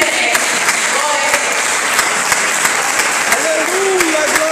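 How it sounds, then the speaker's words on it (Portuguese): A Pentecostal church congregation claps loudly and continuously for several seconds, dense applause filling the room, with a voice briefly calling out over it. "dê uma salva de palmas para Jesus, porque ele merece"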